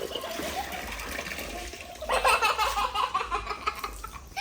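Children splash and play with water on a home balcony, a steady wet splashing that turns louder and busier partway through, mixed with giggles and voices.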